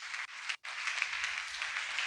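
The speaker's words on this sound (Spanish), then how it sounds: "Démosle un aplauso al Señor" A church congregation applauds during a Spanish-language sermon, producing a steady wash of clapping broken by a brief gap, moderately loud and without speech over it.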